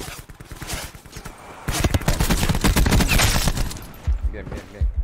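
Rapid bursts of Call of Duty: Black Ops gunfire on PS4 Pro crackle in quick repeated shots, loud and close, with a voice talking over parts of the shooting.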